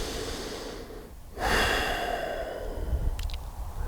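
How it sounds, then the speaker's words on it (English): A person takes a deep breath, a long airy inhale swelling after a quiet pause, close and alone, with a brief faint click near the end. "I take some deep breaths"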